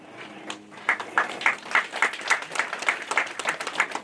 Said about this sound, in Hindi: आपको हम तालियों से अभिनंदन और धन्यवाद देते हैं